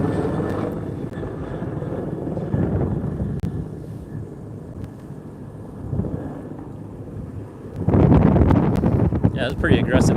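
Wind gusting outdoors in the Hollywood Hills, a steady low roar with a rush building near the end, mixed with a distant engine drone and someone talking over it.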